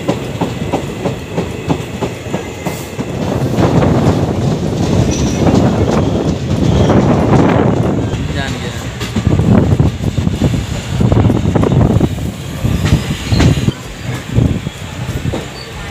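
Mithilanchal Express passenger train heard from inside a general coach as it runs on rails around a curve, loud steady rumble with rhythmic clickety-clack of wheels over rail joints and wind noise throughout.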